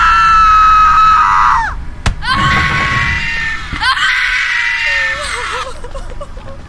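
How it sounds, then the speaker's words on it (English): Anguished human screams in the video game Bunker 16 come in three loud, drawn-out bursts separated by sharp cuts, then give way to a quieter wavering cry at the end. "I hear someone screaming again."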